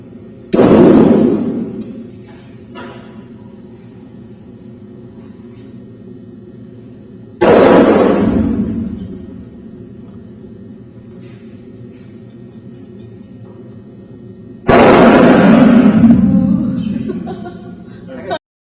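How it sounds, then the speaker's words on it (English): Balloons filled with hydrogen and oxygen are lit with a flame and go off one after another: three loud, sharp booms about seven seconds apart, each with a deep rumble fading over a second or two. "the yellow balloon produced the biggest explosion"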